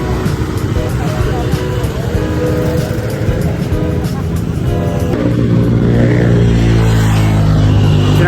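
Monday rush-hour road traffic heard from a gravel bike ride, a loud continuous roar of car and motorcycle engines passing close by, with revving rising toward the end and wind noise throughout.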